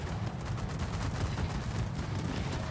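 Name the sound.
anti-aircraft gunfire from a warship in a video game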